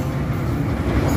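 A commuter train enters track 5 at Kampung Bandan station from the west, giving a loud, steady, close rumble of wheels on rails without any break.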